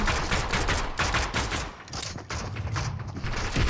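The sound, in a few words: new combat pistol gunfire in a video game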